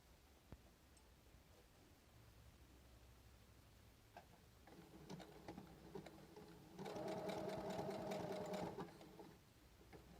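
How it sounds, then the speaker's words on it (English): A sewing machine stitches a button onto a fabric shirt sleeve tab, starting partway in with a quick mechanical whir and clatter that grows louder and steadier before stopping. "You're going to put that under the machine and you're going to sew your button on in that square."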